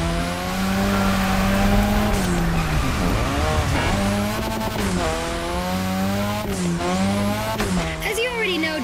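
Cars drifting on a drift track in The Crew Motorfest, engines revving with rising and falling pitch while tires squeal in long loud skids, and a voice talks over them.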